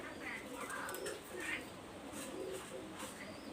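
Teddy-type pigeons coo softly in a loft, giving low, murmuring repeated calls at moderate distance over a constant background hum.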